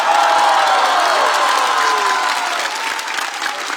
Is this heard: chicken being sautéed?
no